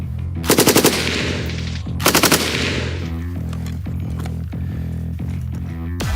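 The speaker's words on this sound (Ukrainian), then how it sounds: "Кулемет це не гвинтівка, але він є досить прицільним" Machine gun firing two short bursts of rapid, loud, close shots, each under a second, with a steady mechanical hum and rhythmic tonal pulses continuing between and after them, no speech.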